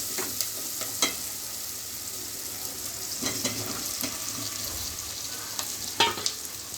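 Taro pieces with turmeric and spices stirred in a pan for a Telangana karam pulusu curry, a soft steady sizzle with a few scraping spoon clicks.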